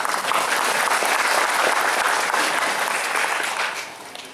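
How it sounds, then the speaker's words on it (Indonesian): Audience applause fills the room, a dense sustained clapping from a crowd that holds steady for several seconds and then tapers off near the end. "silakan tepuk tangan"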